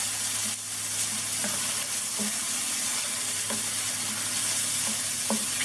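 Shrimp and mushrooms sizzle steadily in a hot pan, a close, continuous frying hiss with a few soft stirring clicks and scrapes.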